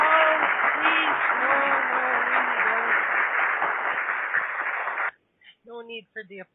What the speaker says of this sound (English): no need for the applause.